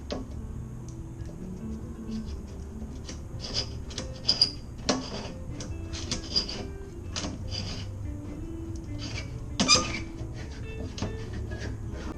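A metal blade scraping corrosion on a boat's gas tank, intermittent short scratchy strokes and ticks with a few sharper scrapes, close and fairly quiet.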